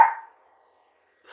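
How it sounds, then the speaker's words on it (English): A single short dog bark, loud and close, that decays quickly into near silence, followed by a faint onset of another sound at the very end. "No barking."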